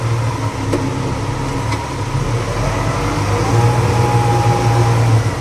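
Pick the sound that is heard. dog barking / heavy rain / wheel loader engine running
wheel loader engine running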